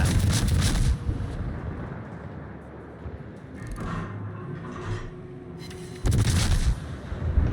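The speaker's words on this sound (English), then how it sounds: "And here come his rear guns." Enemy ship's rear guns firing in a naval battle video game, heavy booming salvos that open and close the stretch, with a softer rumbling blast and lingering roar between them, loud and without talk.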